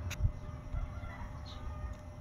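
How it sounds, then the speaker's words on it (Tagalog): Chickens cluck and a bird calls faintly in the distance over a low, rumbling outdoor background. "Maraming ibon."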